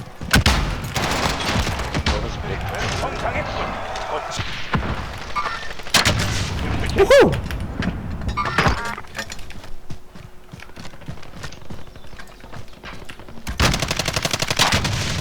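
Gunfire in the video game Call of Duty: Warzone: dense, loud bursts of automatic weapon fire and scattered shots with rumbling booms, continuing almost without pause through the clip, mixed with other game noise.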